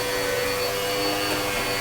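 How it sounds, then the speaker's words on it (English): A vacuum cleaner drones steadily over a viscose rug, a loud, close, continuous whine and roar with no pauses. "my wife is vacuuming this particular viscose"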